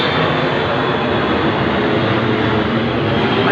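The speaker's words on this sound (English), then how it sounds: "that plane is the least of my problems" Airplane passing overhead outdoors on New Year's Eve, a continuous broad engine roar holding steady and loud throughout with no voices.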